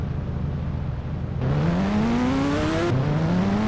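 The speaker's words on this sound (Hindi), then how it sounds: "अब ये आ गई घोस्ट राइडर की बाइक प्रो" The Ghost Rider motorbike in the game Indian Bike Driving 3D revs its engine loudly, its whine climbing steadily in pitch, dropping, then climbing again in two continuous rising surges.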